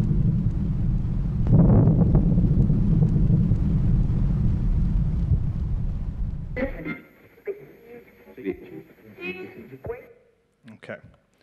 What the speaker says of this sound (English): that was the sound of the air guns